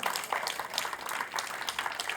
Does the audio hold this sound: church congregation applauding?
yes